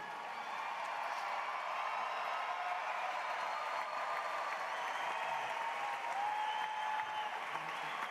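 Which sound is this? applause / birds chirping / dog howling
applause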